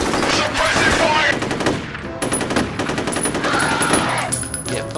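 Rapid bursts of automatic gunfire in the first-person shooter F.E.A.R., loud and dense throughout, with one brief lull partway before sustained firing resumes over game background sound.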